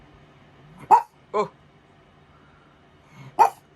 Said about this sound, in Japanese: ずっと吠えてんね。